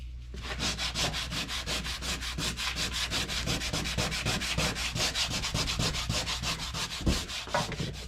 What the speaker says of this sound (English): We're gonna sand her down a bit right here.